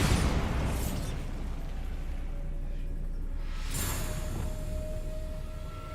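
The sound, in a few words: Bombarda explosive spell blast in the video game Hogwarts Legacy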